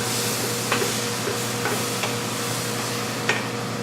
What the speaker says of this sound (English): So I'm going to put in quite a bit of garlic. So like I said, about 2 tablespoons. And I'm going to stir that right in there.